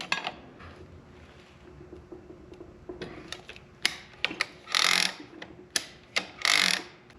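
A bent handbrake lever on a Saturn Sky roadster is pried with a tool, giving scattered metallic clicks, ticks and scraping clunks that grow louder toward the end, close up in a quiet space.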